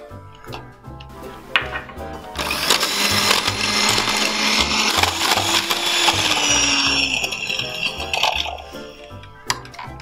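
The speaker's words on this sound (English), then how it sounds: "Just give it a good mix till the butter softens." Softened butter being mixed in a bowl for healthy brownies: a loud, steady whirring and grinding starts a few seconds in and keeps going for most of the clip, then fades out near the end.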